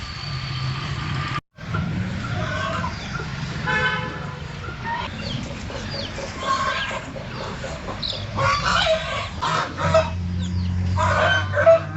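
Chickens cluck intermittently at moderate distance over outdoor background noise in the Andaman Islands, with a few louder calls toward the end.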